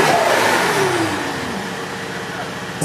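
A 2019 AMG C63S fitted with VRP blow-off valves revving in a driveway, a loud, close engine roar that sweeps and settles, with voices mixed in.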